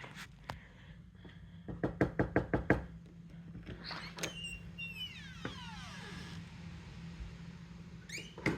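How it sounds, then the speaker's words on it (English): Repeated knocks on a door, a quick burst of about eight raps followed by a few scattered ones, over a steady household hum and some squeaky background sounds. "Maybe if I knock on the door."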